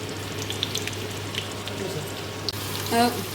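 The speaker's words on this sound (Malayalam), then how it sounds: "സവാള ഇട്ടിട്ട് വഴറ്റി കൊടുക്കും ഈ സവാളൻ്റെ കൂടെ പച്ചമുളക് അട ചെയ്തിട്ടുണ്ട് കേട്ടോ" Onions with green chillies sautéing in a pan for a ration-rice biryani, giving a soft, steady sizzle with faint stirring scrapes and a brief clink near the end.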